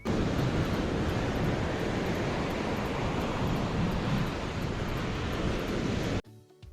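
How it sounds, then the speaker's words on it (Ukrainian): Sea waves roar as a loud, constant broadband wash with wind-like rumble, cutting off abruptly near the end. "Сьогодні ми вирушаємо в подорож до моря. Давайте послухаємо, як воно звучить."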